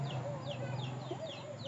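Chickens clucking at close range in a backyard flock in the Philippines, a series of short repeated clucks and calls over a steady low background hum.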